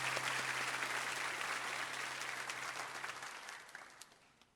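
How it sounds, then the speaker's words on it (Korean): A church congregation at a Sunday worship service applauds in blessing, a fairly soft, full patter of many hands that thins out and dies away near the end, with a low steady hum beneath. "다시 한번 큰 박수로 축복합니다."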